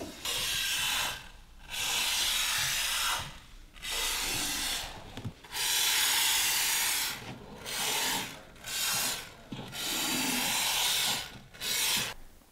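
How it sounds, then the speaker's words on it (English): Repeated bursts of steady hissing spray foam from a nozzle into band joist cavities, each lasting a second or two and separated by short pauses, close and fairly loud with no talking. "get our foam nozzle up and into these little cavities to spray foam over the band area"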